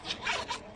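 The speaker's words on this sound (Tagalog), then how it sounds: "Sobrang ganda ng zipper niya" A smooth zipper on a Victoria's Secret wallet is pulled in a quick, close pass of soft rasping bursts, fairly quiet and without speech.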